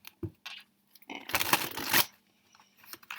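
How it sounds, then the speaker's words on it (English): Oracle cards being shuffled by hand, a dense crisp riffle burst lasting about a second, framed by lighter card taps and handling, close and clear with no talking. "Let me just give it one more shuffle."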